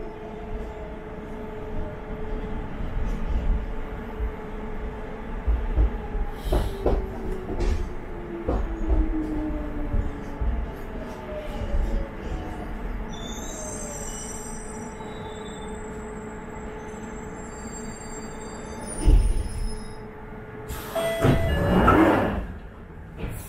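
A London Underground Jubilee Line train runs out of West Hampstead with a steady rumble and whine. Brief clanks and a rising squeal of wheels follow, then a loud rush of noise near the end, with no talking.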